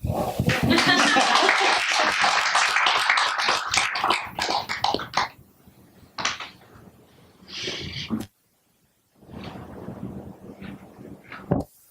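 Audience at a Tibet legacy festival session clapping, a burst of many hands that thins into scattered, isolated claps and brief pauses, with some muffled handling or wind-like noise near the microphone.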